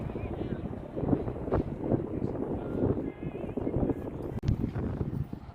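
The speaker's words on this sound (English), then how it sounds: "it was getting quite windy on this exposed hill." Wind buffets the microphone on an exposed hillside, a loud, gusty rumble that rises and falls unevenly, with a brief sharp dip near the end.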